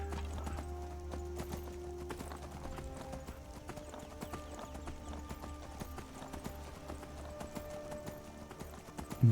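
Horse hooves clip-clop steadily in the video game Skyrim, a dense regular rhythm of close hoofbeats over low ambient game music, with no talking.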